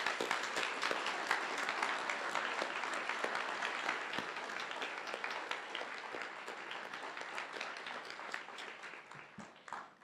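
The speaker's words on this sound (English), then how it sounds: "Thank you, CHS, and one final round of applause." A school crowd at a mock election rally for CHS applauds in a sustained, dense wash of clapping that stays fairly loud for ten seconds and gradually thins out toward the end.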